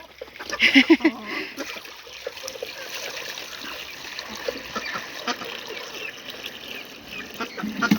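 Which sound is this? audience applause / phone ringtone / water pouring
water pouring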